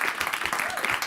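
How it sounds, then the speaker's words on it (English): Brief burst of audience applause at a DePIN Day tech conference in Buenos Aires, steady clapping with some voices underneath. "let's give another round of applause for the terrific announcement"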